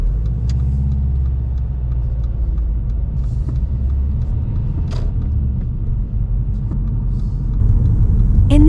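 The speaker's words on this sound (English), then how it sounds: "A car coming too fast, we need to wait." An oncoming car speeds toward a road junction, its engine and tyre roar a steady, loud rumble that builds slightly toward the end, with no talking.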